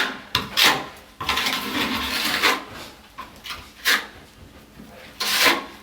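A trowel scrapes 20-minute joint compound over a small drywall vent patch in short repeated rubbing strokes, close and fairly quiet, with brief pauses between passes.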